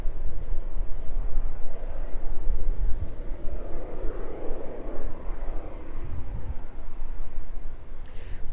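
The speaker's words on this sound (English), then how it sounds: "That next arriving aircraft touching down then this afternoon." An arriving airliner touches down on the runway at East Midlands Airport, its engines giving a broad, steady rumbling roar heard from a distance, swelling slightly and then easing.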